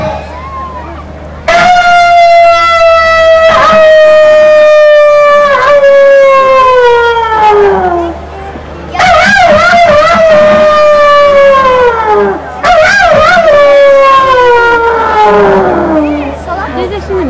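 At a yaren night gathering in Seki, Fethiye, a human voice imitates a jackal's howl in three long, wavering cries that slide downward, each rising sharply then trailing off, loud and close.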